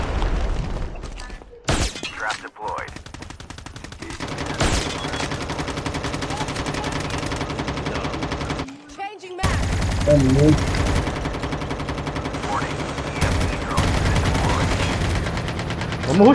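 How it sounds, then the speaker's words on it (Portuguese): Rapid bursts of gunfire from the Squad military shooter game, repeated volleys and shots running almost continuously at close range, with players talking over the shooting. "Estão atirando do lado direito aqui, ó."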